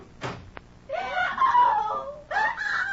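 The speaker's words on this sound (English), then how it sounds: "What was that scream I just heard?" A woman's scream for a gothic horror radio drama, a sharp wavering shriek that rises, breaks off briefly, then returns loud and close, preceded by a couple of short knocks.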